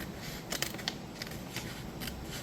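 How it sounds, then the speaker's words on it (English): Scissors trimming paper journal pages, giving a few quick, crisp snips and papery rustles at close range against a soft background hiss. "I'm now going to take this pair of scissors and trim this up"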